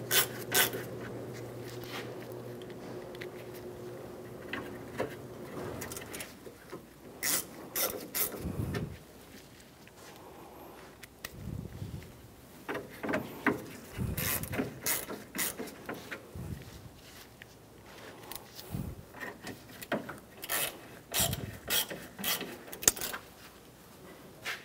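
Ratchet wrench tightening grille screws on a 1997-2001 Honda CR-V, heard as bursts of quick clicking strokes with short pauses between, close and fairly quiet.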